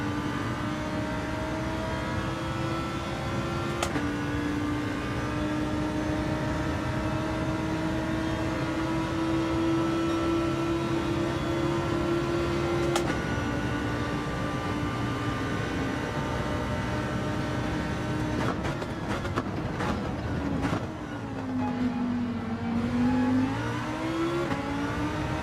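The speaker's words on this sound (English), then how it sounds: "watch the Aston Martin pull away" An Aston Martin race car in Gran Turismo 7 at Fuji pulls away under steady engine drone. The held tone climbs gradually, a few shift clicks cut through, and the pitch dips and recovers near the end.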